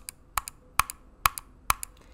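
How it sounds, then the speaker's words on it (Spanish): Crisp, sharp clicks from a Logitech MX Anywhere 3 mouse, several in an uneven pattern with some falling in quick pairs, close up against a quiet background. "este mouse particularmente, el ruido del clic, que hago un poquito de ruido acá"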